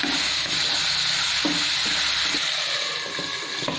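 Chicken fry stirred in a pan: a steady, loud sizzle of frying meat fills the whole stretch, broken by several soft scraping strokes of a spoon against the pan, with no talking.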